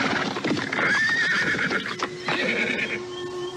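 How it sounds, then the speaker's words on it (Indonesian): A horse pulling a carriage whinnies in a long wavering neigh while its hooves clip-clop steadily along a road, close and clear with no talk. "Dia melihat sebuah kereta kuda tengah bergerak perlahan-lahan di jalan itu."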